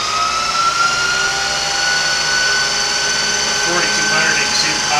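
Bridgeport 2HP 9x48 milling machine with its spindle running at 4,200 RPM, a loud, steady high-pitched whine with layered mechanical tones that holds constant throughout, close up.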